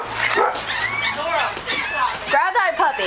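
Confined dogs and puppies whimper, yip and bark in rising, wavering cries close by, mixed with people talking over them.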